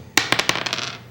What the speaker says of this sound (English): So now you roll the dice, and then say out loud what the dice is.